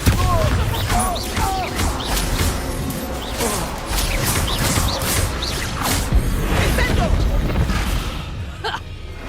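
Bombarda blasting spell fired repeatedly in Hogwarts Legacy combat, loud booming bursts and crashes in quick succession over dense battle noise and music, with whooshing spell effects and voices calling out amid the fight.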